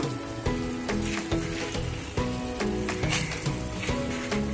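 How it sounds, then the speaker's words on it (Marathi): Sprouted field beans (val) hitting frying masala in oil for a Maharashtrian usal curry; a close, steady sizzle with intermittent stirring clinks and scrapes, no voices. "आता आपण ह्याच्यामध्ये वाल घालूया"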